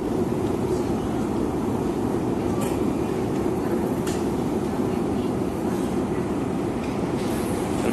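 A Moscow metro train runs through its tunnel, filling the car with a loud, steady, continuous roar and rumble for the whole stretch, with no talking.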